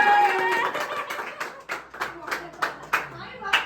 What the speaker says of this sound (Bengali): হাততালি হাততালি, এটা জোরে হাততালি।